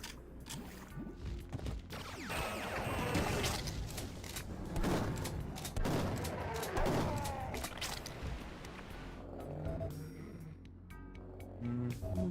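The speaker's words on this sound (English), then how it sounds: "I have a rocket launcher now." Weapon fire in the video game Duke Nukem 3D, with repeated blasts and explosive bursts over game sound effects, moderately loud and continuous.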